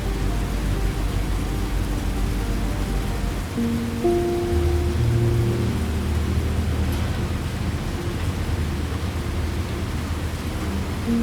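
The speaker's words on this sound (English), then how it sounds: "the rain on the glass, patient and rhythmic and complete." Steady rain pattering against a window of a vintage British steam train at night, a dense continuous wash with faint low rumbling underneath, unbroken throughout.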